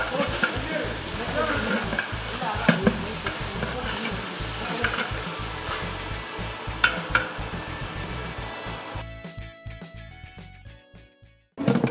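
Four kilos of onions frying in a large pan for marriage-style ghee rice, a loud continuous sizzle with occasional stirring scrapes, the frying fading near the end to leave sparse clinks and faint tones.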